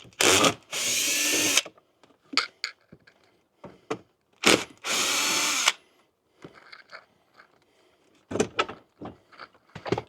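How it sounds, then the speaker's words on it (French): Cordless screwdriver removing glove box screws inside a Tesla Model X, giving several loud whirring bursts of a second or so, separated by clicks, knocks and faint handling noises close by. "Vous faites avec la visseuse."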